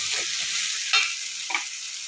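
Tomatoes sautéing for a country chicken masala gravy, giving a continuous close sizzle with two brief scraping stirs, and no talking.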